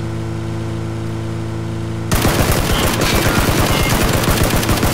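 Gunfire in the PUBG video game: after two seconds of a steady low humming drone, a loud rapid burst of automatic shots erupts and keeps rattling in quick succession to the end.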